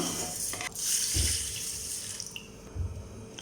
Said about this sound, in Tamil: இப்போ நம்ம வறுத்ததை ஒரு பாத்திரத்தில் போட்டு லைட்டாக வாஷ் பண்ணி எடுத்துடலாம்.